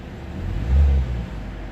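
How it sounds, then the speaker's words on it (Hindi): A 2012 Hyundai Sonata engine, fixed after a bad fuse caused a crank-no-start fault, catches and settles into a low steady idle, swelling briefly as it fires before humming on evenly. "गाड़ी स्टार्ट हो गई, आप लोग देख सकते हो"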